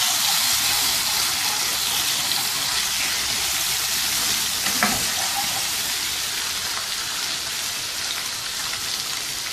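Garlic ginger paste and green chili paste fry in a pan for an aloo matar curry, giving a loud, steady, dense sizzle throughout with a brief stir near the middle and no voice.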